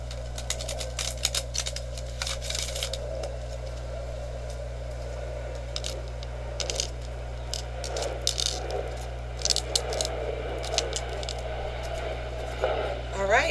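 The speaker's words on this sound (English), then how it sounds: "One more shuffle, I'll cut, and then we'll go from there." Tarot cards being shuffled and cut by hand, with soft irregular riffling and tapping over a steady low hum, close and fairly quiet.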